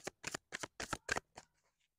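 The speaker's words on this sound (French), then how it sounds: "On va prendre une carte de l'oracle de la Vierge Marie." Oracle cards depicting the Virgin Mary are shuffled by hand in quick bursts, about six crisp riffling flurries in a row, close and clear with no talking over them.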